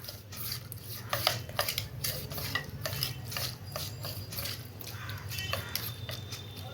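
Prawns are mixed by hand in a bowl while marinating for mixed fried rice, producing a close series of wet squelching, stirring strokes and light scrapes against the bowl in a steady rhythm.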